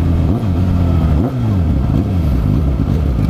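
A Suzuki SRAD 1000 sport motorcycle's engine revs loudly and close, pitch rising and dipping through quick throttle blips against a steady deep rumble.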